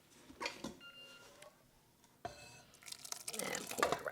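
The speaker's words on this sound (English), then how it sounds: "And pour the rest in." Cooked runny refried beans poured from a bowl into a pressure cooker pot, giving soft wet splashing and plopping sounds at close range, with a few quiet clinks before the pour.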